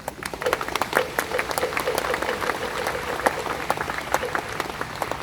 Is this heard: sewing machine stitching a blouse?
no